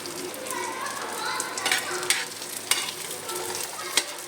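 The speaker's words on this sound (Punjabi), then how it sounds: "ਹੁਣ ਅਸੀਂ ਇਹਨੂੰ ਮਿਕਸ ਕਰਾਂਗੇ ਅੱਛੀ ਤਰ੍ਹਾਂ" Vegetables stirred in a hot pan on a tawa, a steady sizzle of frying with intermittent scraping and clinking of the spoon against the metal, close and continuous.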